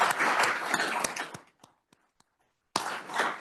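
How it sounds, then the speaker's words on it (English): Audience at a law conference on natural resources clapping for the organizers, a dense burst of applause that drops to a few scattered claps and silence before resuming. "please give them a huge round of applause for all their hard work"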